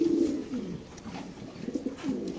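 Racing pigeons coo in low, throaty rolls at close range inside a loft, the soft murmuring repeating with no voices.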